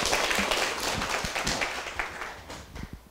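Audience clapping to welcome a lecturer at an evening class session, a dense, steady patter of many hands sustained throughout at moderate distance, with no one speaking over it.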